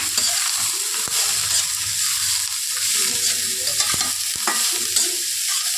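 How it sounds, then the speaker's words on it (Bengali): Peas and carrots fry in a pan with a steady, close sizzle while a utensil scrapes and stirs them, giving a few sharp clicks throughout. "মটরশুঁটি আর গাজরটা দিয়ে দিলাম।"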